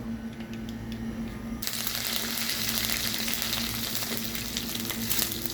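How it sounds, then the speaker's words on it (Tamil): Mustard seeds and cumin dropped into hot oil for lemon rice, starting with quiet background noise before a sudden loud, close sizzle that crackles steadily to the end. "எண்ணெய் நல்லா காஞ்சிட்டு கடுகு ஜீரகம் சேர்த்துருக்காங்க"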